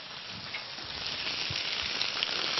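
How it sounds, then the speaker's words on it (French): Chicken breasts (poularde) sear in a hot pan with a steady, dense sizzle that holds throughout, close and fairly loud, with faint pops and shifts as the pieces settle, and no voices. "On fait saisir nos poulardes."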